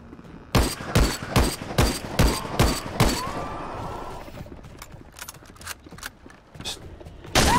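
Rapid bursts of gunfire from the zombie survival shooter Dead Frontier 2, about seven loud close shots in quick rhythm followed by a few sparser, fainter shots.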